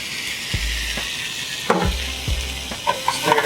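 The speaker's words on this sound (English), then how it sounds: "From here, put all your mushrooms in." Mushrooms frying in a pan with shallots, a steady loud sizzle with scraping stirs and light knocks of the utensil against the pan, no voices.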